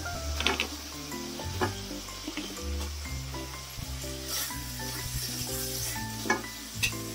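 Chopped potatoes go into a pan of frying spice paste, giving a steady close sizzle with scraping and stirring knocks of a utensil against the pan, no talking.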